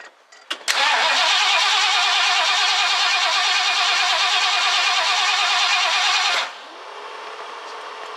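The engine of an old barn-find vehicle cranks with a starter whine, then roars loudly and steadily up close before dropping abruptly to a quieter idle.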